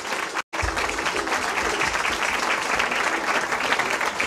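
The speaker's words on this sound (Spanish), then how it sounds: "Que vengan los aplausos para nuestro Dios." A quinceañera celebration crowd applauding for God and the birthday girl, a dense, continuous wash of clapping that holds steady after a brief dropout at the start.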